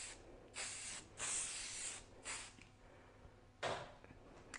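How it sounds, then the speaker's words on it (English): Hairspray hisses from a can in several short bursts of varying length, close and soft, finishing a textured blow-dried style on short hair. "So just finish the hairstyle with a little bit of extra hairspray for hold."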